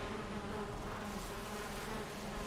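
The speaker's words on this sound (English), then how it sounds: "is there bees? Yes, there's bees. Why has every house got bees?" Bees in Valheim buzz in a steady, dense drone, held close and even throughout with no speech over it.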